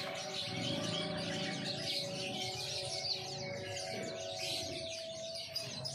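Jalak kapas (white-shouldered starling) birds sold in large bunches at a bird market, chirping and tweeting continuously in a dense chorus over a steady hum of background noise.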